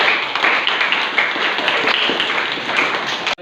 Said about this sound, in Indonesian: Tepuk apresiasi untuk saudara Tio.